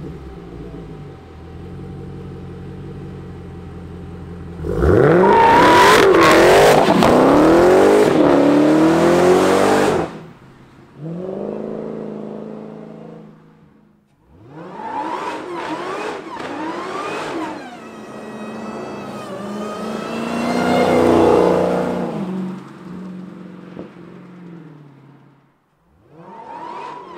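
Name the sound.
2018 Dodge Challenger Demon engine revving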